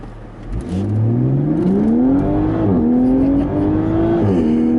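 A Toyota GR Supra accelerates hard on a hot day while its tires scrabble for grip. The engine note climbs loud and close through the gears, with a short dip at each shift, and no one speaks over it.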